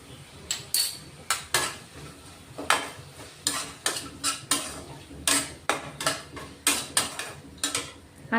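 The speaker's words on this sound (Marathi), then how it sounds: "तेही आता या मसाल्यामध्ये परतून घेणार आहे." Regular, close clinks and scrapes of a spatula against a pan as coarsely crushed peanut powder is stirred and fried into spice masala, sharp metallic strokes repeating at a steady rhythm with no talking.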